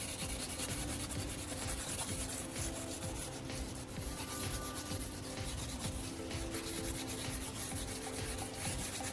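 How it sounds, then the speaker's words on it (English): Fine-grit sandpaper rubbed steadily over a car headlight coated with a restoring solution, a continuous close scratchy rasp with even back-and-forth strokes and no talk. "One more round of careful sanding over the applied solution, making sure to hit every spot evenly"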